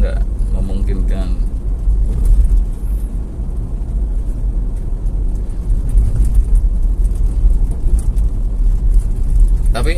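A 2014 Nissan Grand Livina drives on a busy road, its engine a steady low rumble with cabin road noise, while people talk over it throughout.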